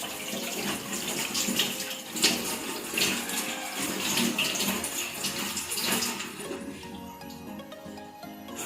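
Running water rinsing hands clean under a tap: a continuous close splashing rush with shifting splatters, easing off slightly toward the end.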